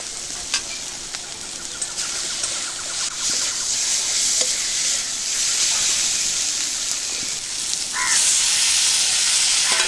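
Spice paste with chopped green chillies frying in a pan for a Bengali fish dish, giving a steady loud sizzle with repeated stirring scrapes throughout, no voices.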